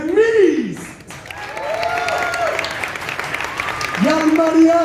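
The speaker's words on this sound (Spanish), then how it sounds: "un aplauso enorme a la orquesta de Miss" Audience applause for an orchestra and mariachi at a festival event, a soft continuous clapping bed underneath a voice speaking loudly over it.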